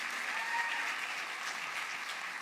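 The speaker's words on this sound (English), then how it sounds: "So another round of applause for this lady." An audience applauds at a business challenge event, a steady, dense round of clapping holding evenly loud throughout with no voices on top.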